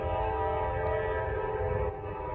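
A Norfolk Southern train rumbles past close by in a steady, continuous drone, with a layered tonal hum and low rolling noise holding at the same loudness throughout before easing slightly at the end.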